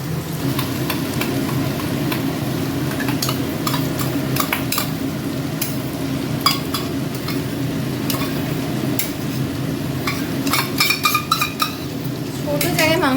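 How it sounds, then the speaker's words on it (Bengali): Onions fry in a pan alongside marinated mutton for a Bengali home meal, a steady sizzle with scraping stirs and occasional clinks of metal utensils, running under ongoing talk throughout. "এদিকে পেঁয়াজ ভাজা চলছে"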